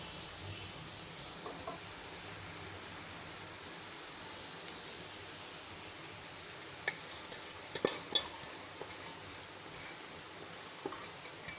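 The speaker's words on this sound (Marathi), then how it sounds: "आता आपण पोहे घालून घेऊया." Poha (flattened rice) goes into hot turmeric oil with onion in a pan, bringing a continuous soft sizzle and stirring, with a brief burst of louder scraping and crackle partway through.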